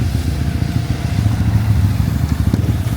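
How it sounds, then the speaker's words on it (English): Trail motorbikes ride past on a street in Vang Vieng, Laos, their engines forming a steady low rumble that stays fairly loud throughout with a brief rise near the end. "So a lot of guys coming over on the trial bikes and hitting the Vang Vieng Loop."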